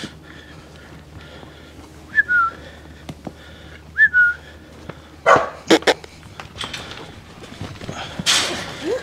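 Dogs bark and yip in short bursts around a backyard gate while a person whistles and people speak nearby, the barks sharp and close against a low outdoor background.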